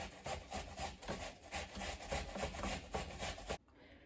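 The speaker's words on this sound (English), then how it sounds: "You're going to grate half of a small yellow onion" A small yellow onion being grated by hand, giving a steady run of close, rhythmic rasping strokes that continue for several seconds and then stop abruptly near the end.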